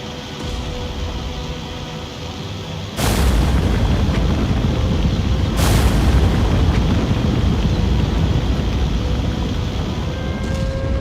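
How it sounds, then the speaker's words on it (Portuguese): Bombs dropped on a WWII airbase in IL-2 Sturmovik burst into a loud, sustained roar of explosions, with heavy artillery fire booming steadily alongside, two big impacts standing out early on. "Com a artilharia disparando forte, os dois pilotos lançam as primeiras bombas na base aérea."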